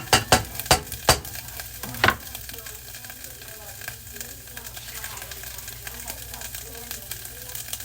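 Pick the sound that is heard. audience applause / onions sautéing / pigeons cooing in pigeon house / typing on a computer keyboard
onions sautéing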